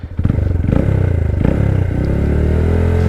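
A 2022/23 Honda Grom motorcycle engine revs up close and loud, a buzzing, pulsing single-cylinder note that climbs through rising revs and then holds steady, with some mechanical clatter and no talking.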